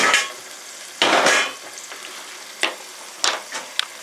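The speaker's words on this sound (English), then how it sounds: "so you put oil in this pan pot. You're sauteing the onions now." Onions sauteing in oil in a pan pot give a soft hiss, punctuated by several sharp scraping stirs and clinks that come in bursts, loud and close.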